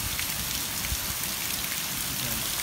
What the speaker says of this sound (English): Finally starting to see quite a bit of rain.